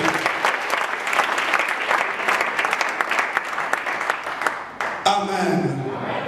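A church congregation applauds loudly and continuously for several seconds, then the clapping stops and a voice speaks over the room.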